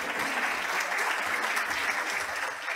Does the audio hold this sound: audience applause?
yes